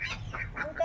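Ducks quacking nearby outdoors in a short burst of several nasal calls in quick succession, moderately loud, with faint background noise.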